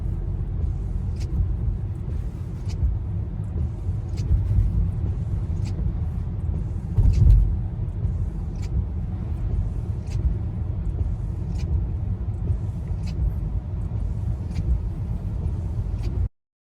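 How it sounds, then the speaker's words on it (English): Inside a 2020 Honda Accord EX-L on the move, a constant low road rumble and tire noise fill the cabin. Faint, regular ticks recur every second or so over the steady drone. "Here we are driving the 2020 Honda Accord EX."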